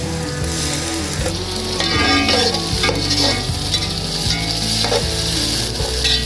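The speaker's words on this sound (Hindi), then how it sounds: "अदरक लहसुन को यहाँ पे थोड़ा सा फ्राई करेंगे।" Ginger garlic paste fries loudly in a pot for yakhni biryani, with onions and cumin, a close constant sizzle broken by repeated scraping stirs of a spoon.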